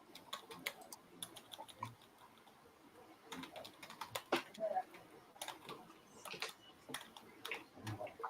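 Fingers type on a computer keyboard in uneven bursts of light clicks, close but quiet, with soft talk faint underneath at times.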